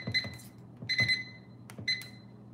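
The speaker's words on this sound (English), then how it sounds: "Okay, I put the timer on." A kitchen timer being set while chicken and biscuits cook, giving several short clusters of high, electronic beeps in quick bursts, close and fairly clear over a quiet room.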